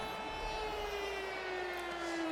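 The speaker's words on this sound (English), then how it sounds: "And there's Big Red with the air raid siren." Stadium air raid siren sounding at home in a Madden 26 football game, a loud sustained wail with a slowly falling pitch, steady and alone without talk.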